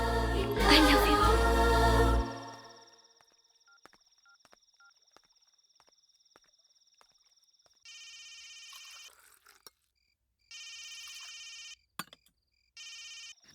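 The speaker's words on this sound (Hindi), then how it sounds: "फोन तो उठाओ।" After a loud opening burst and a quiet pause, a telephone rings in repeated electronic trills, clear and near.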